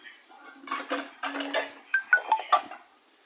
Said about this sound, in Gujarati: વધારાના વાસણ આમાં મૂકું